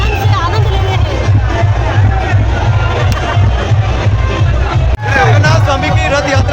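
Dense crowd of devotees at the Jagannath Rath Yatra procession, a loud continuous hubbub of many voices with scattered cheers, close and enveloping, briefly dipping for a moment before surging back.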